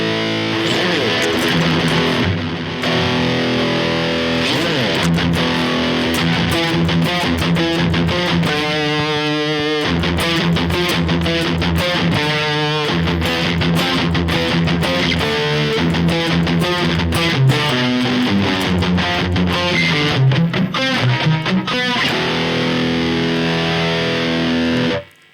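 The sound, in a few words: electric guitar through high-gain amp simulation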